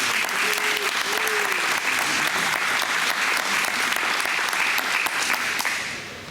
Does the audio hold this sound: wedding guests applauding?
yes